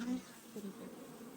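Bees buzzing near a beehive that is splitting as the queen leaves, a soft steady low hum that holds for the whole short stretch, faint and close.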